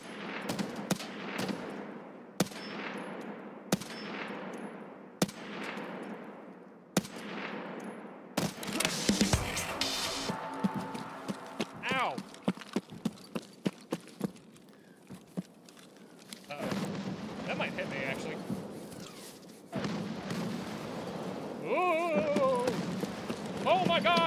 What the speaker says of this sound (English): It's fucking mortars! It's everywhere!